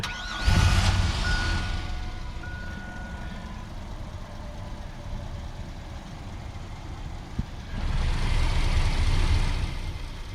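A van engine cranks and catches near the start, settles into a steady low idle, then revs up louder near the end.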